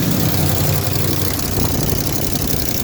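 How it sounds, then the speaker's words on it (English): A Mopar engine idles loudly up close with an exhaust leak at the manifold, a steady low rumble with a rapid puffing, ticking pulse running continuously throughout. "I think there's a blow here at the manifold somewhere, because it ain't blowing from down there."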